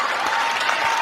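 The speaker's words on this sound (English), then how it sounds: "One more hand clap." Dense hand clapping applause, steady and continuous across the whole moment, close and fairly loud with no voices over it.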